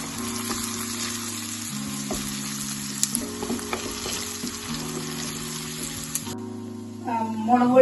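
Chilli powder and salt fry in oil for a fish curry while being stirred, giving a continuous close sizzle with scraping spoon strokes and a low hum, ending in a brief splash of liquid.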